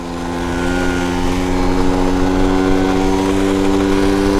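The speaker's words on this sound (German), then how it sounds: "es macht mega Spaß, mit einer Mofa zu fahren." A tuned moped engine under way, droning loud and steady with a constant buzzy hum and no let-up, and no talking over it.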